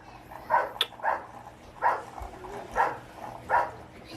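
A puppy barks five times in short, evenly spaced yips at a moderate distance, fairly faint over a quiet indoor background, with no talking.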